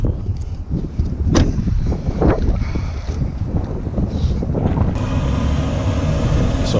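Gusty wind buffets the microphone with low rumbling and rustling, loud and continuous outdoors.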